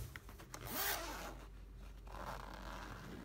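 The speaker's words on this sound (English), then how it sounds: "Just gonna zip it up right now." A zipper runs around a card binder in quick, close rasping pulls, followed by a softer, longer drag as it closes.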